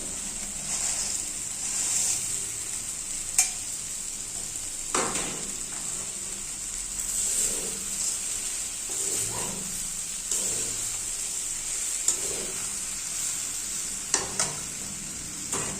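Maggi noodles are stirred in a pan with fried potato, tomato and carrot, a steady close sizzle punctuated by repeated spatula scrapes and clinks at irregular intervals, with no voices.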